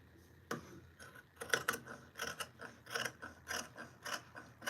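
A sewing machine understitching a duster, heard as a quiet series of mechanical clicks and short whirring bursts in an uneven rhythm.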